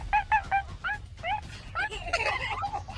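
A person imitates a chimpanzee with a string of high, hooting, whimpering voice calls that build into faster, excited shrieking, close and moderately loud over a faint background hum.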